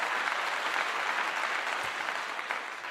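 Steady applause rises as a shout-out, a continuous, even wash of many hands clapping at moderate loudness with no clear pauses.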